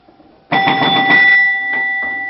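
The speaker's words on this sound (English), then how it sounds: "you can really hear them bells ringing back there, because the back door is off" Electromechanical chime bells ring inside a 1968 Gottlieb Royal Guard pinball machine with its back door off, struck hard; a sudden loud clang rings out, followed by a couple more strikes that sustain and fade slowly.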